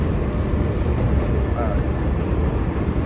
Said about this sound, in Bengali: এটি হচ্ছে একটি সাবওয়ে ট্রেন আসছে